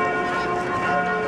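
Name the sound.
church bells ringing in the morning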